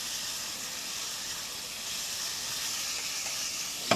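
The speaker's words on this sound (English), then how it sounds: "So now the prawns is already start getting cooked." Turmeric-marinated prawns sizzle in a pan in a steady, even hiss that runs unbroken for several seconds, close and moderately loud, with a small clink right at the end.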